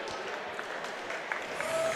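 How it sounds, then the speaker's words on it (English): A crowd applauds fighters in the center of a cage at a mixed martial arts event, the clapping moderately loud and steady, with a voice speaking over it. "please put a big round of applause together for both of the fighters in the center of the cage"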